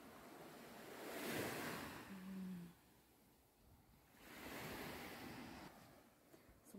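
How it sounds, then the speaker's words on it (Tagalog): Waves wash gently onto the shore in two slow surges, with soft wind noise and a low background hum between them. "Ang marinig mo lang yung mga alon."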